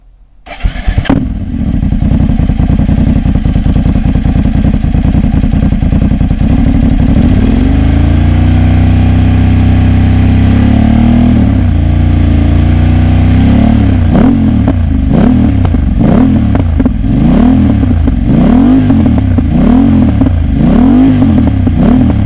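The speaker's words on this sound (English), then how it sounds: "It sounds fantastic going along on the bike" A BMW GS 850 motorcycle with a sport exhaust fires up and idles with a deep, throaty exhaust burble, then revs repeatedly in rising and falling blips, loud and close.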